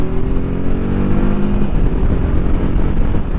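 A TVS Apache RTR 310 motorcycle upshifting through gears with its quick shifter and no clutch, a loud close engine drone rising in pitch and then breaking into a rough, throbbing roar as it pulls on.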